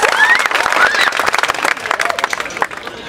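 Crowd applause from an audience at an outdoor stage show in Patna, dense rapid clapping that stays loud and busy throughout, with scattered voices and cheering mixed in.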